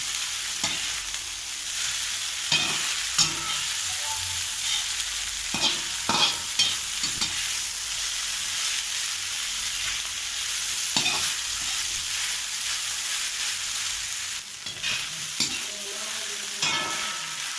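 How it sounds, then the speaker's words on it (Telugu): Egg noodles fry in a pan with a steady sizzle while a utensil stirs them, adding scattered scraping and clinking knocks at irregular intervals, with no voices present. "మనం ఇప్పుడు జాగ్రత్తగా దీన్ని అలాగే అంత మిక్స్ అయ్యేలాగా తిప్పాలి జాగ్రత్తగా, లేదంటే విడిపోతున్నది."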